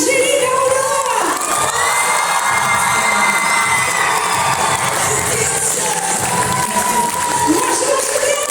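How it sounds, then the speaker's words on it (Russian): Loud, sustained crowd cheering, shouting and clapping from an audience at a dance ensemble's anniversary concert, with children's voices rising above a steady roar that holds for the full stretch, with an announcer's voice briefly present. "Наши громкие аплодисменты!"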